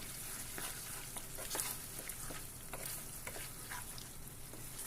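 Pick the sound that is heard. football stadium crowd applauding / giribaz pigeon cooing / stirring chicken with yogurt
stirring chicken with yogurt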